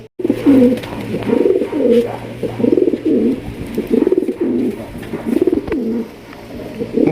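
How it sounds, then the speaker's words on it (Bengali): Pair of native Giribaz pigeons cooing in a repeating series of soft, throaty coos, close and fairly loud, with no talk over it. "চমৎকার একজোড়া দেশীয় গিরিবাজ কবুতর নিতে পারবেন"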